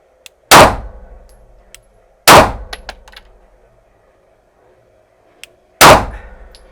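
Three loud, sharp shots from a SIG Sauer P365XL pistol crack out at uneven intervals on a shooting range, each ringing off with a short decaying tail, with faint metallic pings in between.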